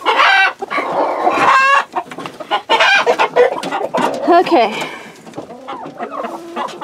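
Hens clucking inside a backyard hen house while eggs are collected in winter, several birds cackling loudly and close by in irregular bursts, with a person briefly speaking amid the calls.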